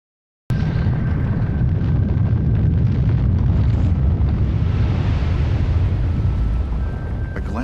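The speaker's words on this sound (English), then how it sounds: "a volcano's going off in front of him" A volcano erupts in Hawaii, a heavy, continuous low roar and rumble with wind buffeting the microphone. It starts suddenly, holds loud throughout and eases slightly near the end.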